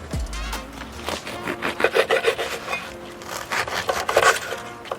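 A knife saws through French bread being cut into small slices for crostini, giving a rhythmic scratchy crunch of crust in a kitchen, close and moderately loud.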